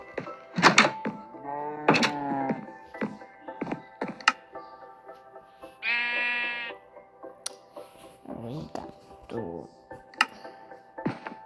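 Sheep in the Minecraft video game give several short bleats, spread irregularly among dull in-game thunks and clicking sounds. One longer, wavering bleat stands out near the middle, and a voice can be heard faintly.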